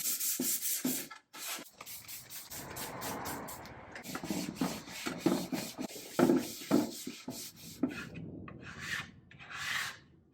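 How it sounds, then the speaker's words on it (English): Pine furniture is worked with 80 grit sandpaper in repeated rasping strokes, loud and close, with short pauses between the passes. "I'm just going to go to sanding on an 80 grit, and hopefully that goes to the raw pine underneath"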